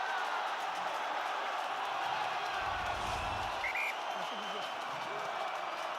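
The Ravenhill crowd at an Ulster rugby match roars in a steady, distant wash of cheering and applause, faint under a commentator's voice.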